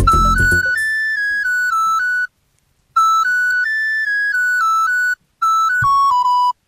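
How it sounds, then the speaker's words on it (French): Mobile phone ringtone played as a TV quiz question: a loud, bright electronic melody of short stepped beeps, repeated in three phrases separated by brief silences, with no talking. "Alors voici la première sonnerie de portable pour toi."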